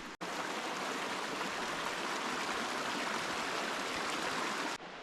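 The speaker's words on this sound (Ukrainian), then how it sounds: "а десь така от річка робить всю атмосферу." A Carpathian mountain river rushing steadily near Stara Huta on a hike toward Velyka Syvulia, a dense, loud, continuous broadband roar of flowing water with no voices.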